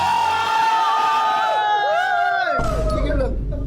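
A live audience shouts and cheers on cue at a Filipino comedy show, loud crowd whoops swelling over a voice on the microphone, then a sustained roar of cheering.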